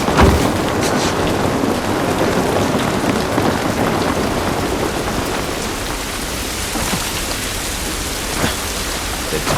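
Steady heavy rain in the video game The Last of Us Part I pours down with a dense hiss, and a faint rumble of thunder rolls underneath.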